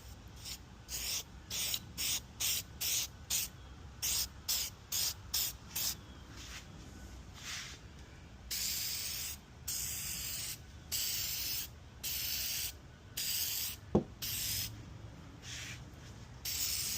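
Headlight restoration coating is sprayed from an aerosol can outdoors in a rapid series of short, close hissing bursts, then longer sprays separated by brief pauses, no talk.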